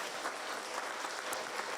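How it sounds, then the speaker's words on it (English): Outdoor audience at a ribbon cutting ceremony giving a short burst of steady, even applause, moderately distant, with no talking over it. "So again, a big round of applause for Miss Allison Gervertz"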